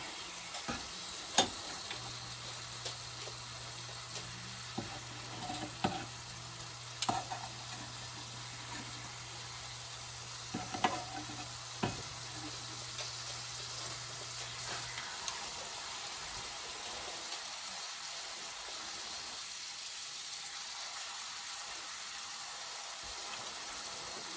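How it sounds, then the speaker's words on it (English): Chicken livers fry in a pan with a soft, continuous sizzle and hiss, broken now and then by faint scrapes and clicks of a utensil; the sound stays fairly quiet and even throughout with no talking. "Now them livers are cooking."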